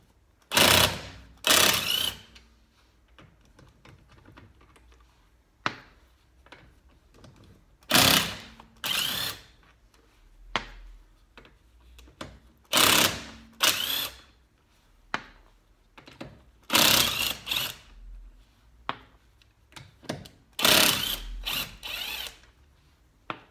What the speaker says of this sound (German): Da ich aber mit einem Schlagschrauber arbeite, reicht das, wenn das Fahrzeug direkt angehoben wird und dann im Prinzip die Radschrauben gelöst werden.